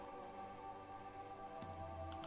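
Steady rain patters down in the rain-swept streets of a run-down town, a soft continuous hiss with faint drops, heard alone under a low droning musical bed that shifts near the end.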